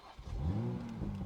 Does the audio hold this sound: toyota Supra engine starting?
yes